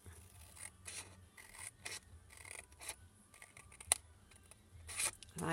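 Scissors cut card into a small wedge for a handmade Christmas card box, giving several short snipping rasps in bursts with quiet gaps between, close up, with no talking.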